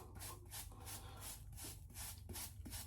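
A soft-bristle beard brush sweeps through a beard in steady, close, rhythmic strokes, about eight soft scratchy passes in quick succession, quiet and alone.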